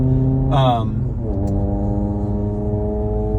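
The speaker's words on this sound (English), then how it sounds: "that car in front of me is really loud" A loud, low car engine drone hums close by from a car ahead, steady and throaty, with a brief rising whine near the start.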